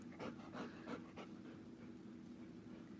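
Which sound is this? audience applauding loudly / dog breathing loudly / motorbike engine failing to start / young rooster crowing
dog breathing loudly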